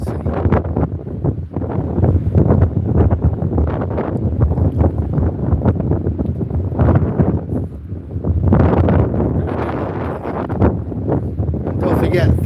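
Strong wind on a seaside promenade at Withernsea, heavy gusts buffeting the microphone in loud, irregular low rumbles throughout.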